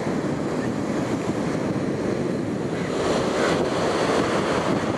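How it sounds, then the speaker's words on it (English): Surf rolls in steadily at Palolem beach in Goa, India, with a continuous broadband wash of waves and wind buffeting the microphone, loud and unbroken throughout with no voices. "This is the beautiful Palolem beach in Goa, India."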